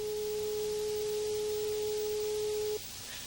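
A single pure steady hearing test tone holds for nearly three seconds, then cuts off, leaving faint background hiss.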